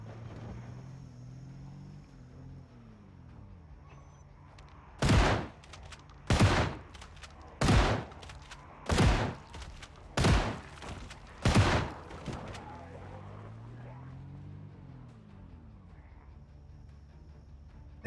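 Six loud, sharp gunshots in Project Zomboid, fired at steady intervals of about a second and a half. Each crack stands alone against a low, quiet ambient background, with no talking.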